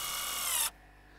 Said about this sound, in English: So first thing I'll do is put a couple of screws in the end